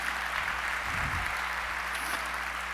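Faint, even applause from an audience at a liberty and democracy forum in Belo Horizonte, a soft distant wash of clapping with a low rumble in the middle.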